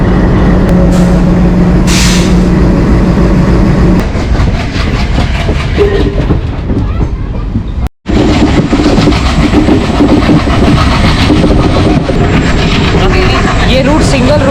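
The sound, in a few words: railway engine running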